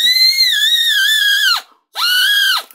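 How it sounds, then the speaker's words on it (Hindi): A red toy whistle blown close and loud in two shrill, steady blasts, a long one followed by a shorter one after a brief pause. "और इस सीटी को भी बजा देता हूँ।"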